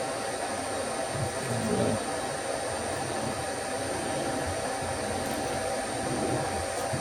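Steady whirring drone of a machine cutting gear teeth on a 40-position tool post holder, a constant faint hum with slight fluctuations throughout.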